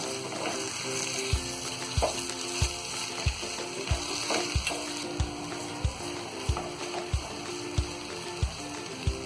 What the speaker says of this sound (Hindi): गैस को हम यहाँ तेज ही रखेंगे और इसे लगातार चलाते हुए भूनते रहेंगे।